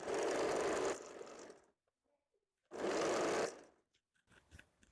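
A sewing machine stitches a straight waistband strip for a blouse in two short bursts, each about a second long with a quiet pause between, followed by faint handling sounds.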